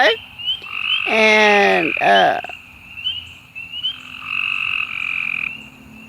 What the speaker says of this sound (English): We got to hear some frogs